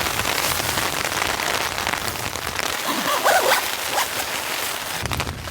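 Heavy rain drumming steadily on a tent during a mountain rainstorm, a dense close hiss and patter that continues unbroken throughout.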